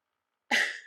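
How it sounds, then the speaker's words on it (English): A man gives one short, sharp cough nearby after a stretch of silence, the burst fading quickly. "That is my husband coughing"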